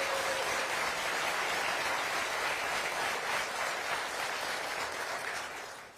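Crowd at a county address in Milwaukee gives sustained applause, a broad even wash of many hands clapping that holds steady and then fades out at the close.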